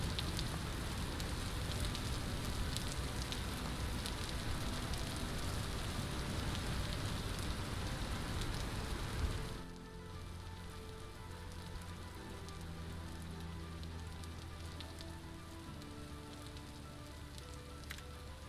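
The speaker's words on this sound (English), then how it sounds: "This rain's a little loud." Rain falls in the video game Vintage Story, a dense, hissing patter that runs loud and then drops sharply to a quieter level partway through, over faint tonal game sounds.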